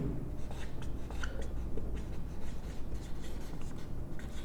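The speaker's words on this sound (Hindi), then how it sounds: "यहाँ मैं सबसे पहले आपके लिए लिखता हूँ" Writing on a board during a grammar lesson: a quiet run of scratchy, rhythmic strokes close to the listener, with no speech.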